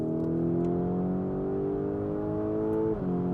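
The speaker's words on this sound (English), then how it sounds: "listen to that action, that gearbox" Lamborghini Urus S engine pulling hard under steady acceleration, its note rising continuously, then a crisp automatic gearbox upshift near the end drops the pitch before it climbs again; close, loud and sustained with no talking.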